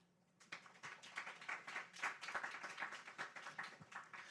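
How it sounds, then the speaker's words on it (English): A conference audience applauding panelists at a policy discussion, dense clapping that starts suddenly after a brief quiet and carries on steadily, fairly soft and distant. "let's give them all a round of applause"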